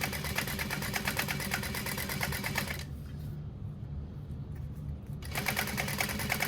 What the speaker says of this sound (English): I'm just going to sew through the piping